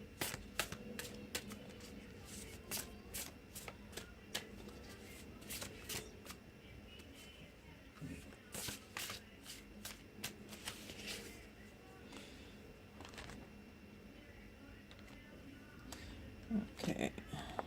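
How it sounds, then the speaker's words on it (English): Oracle cards from a Mirror's Love deck being shuffled, a run of quick riffling and flicking bursts close by, fairly quiet, with brief pauses between handfuls. "I'm going to go ahead and pull a card from the Mirror's Love Oracle for you"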